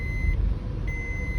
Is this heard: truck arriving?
yes